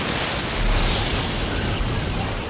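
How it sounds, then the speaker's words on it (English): Heavy ocean surf on the storm-battered Cape of Good Hope coastline roars in a dense, continuous wash, loud and unbroken, with a slight swell partway through. "Winter storms work their way north from Antarctica and pound a battered coastline."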